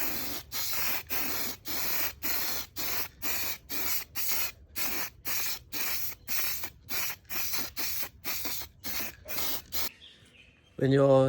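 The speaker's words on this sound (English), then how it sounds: "I can finally start painting this wheel here." Short regular bursts of a spray gun hiss as base coat goes onto a car wheel, about a dozen passes separated by brief gaps, close and steady, ending in a brief clatter.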